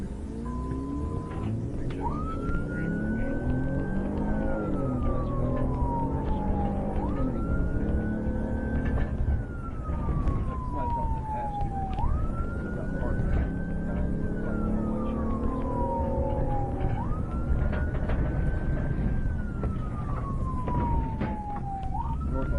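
Police car siren wailing continuously during a pursuit of a Corvette, rising and falling in a steady repeating sweep about every five seconds, loud and close over a rumbling engine and road noise.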